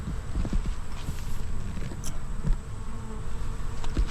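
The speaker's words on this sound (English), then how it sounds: "There's just what I would consider an unusual amount of bees walking around on the ground." Honey bees buzz steadily around a hive on a farm, a dense close drone filling the scene with faint scattered taps, no voices.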